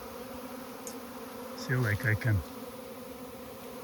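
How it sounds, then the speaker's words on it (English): A swarm of bees gathered on a tree branch hums with a steady, faint buzz close by, while a person speaks briefly over it. "I can basically reach these bees, and then the other bees is trying to get to that bucket"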